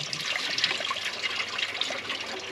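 Coolant draining from a disconnected water pump hose on a 2013 VW Tiguan 2.0 TSI, trickling steadily into a catch pan below; a continuous, close liquid splatter and dribble with no talk.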